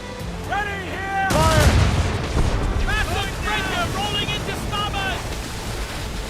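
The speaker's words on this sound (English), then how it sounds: "Massive breaker rolling into starboard!" Large wave crashing against a sailing ship at sea in Assassin's Creed Rogue, a sudden loud surging roar of water that settles into a steady rushing wash, with crew voices calling out over it.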